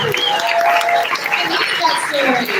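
A crowd applauds and cheers loudly and steadily, with voices and whoops mixed into the clapping.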